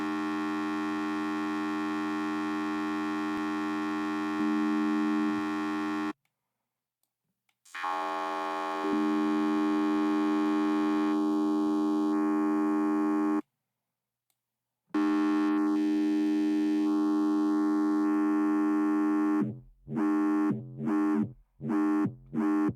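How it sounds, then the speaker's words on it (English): A buzzy, harmonically rich dubstep synth bass from Serum drones with gritty tube distortion, broken by abrupt silences and stuttering choppy cuts near the end. "And bring in distortion. I like the tube distortion."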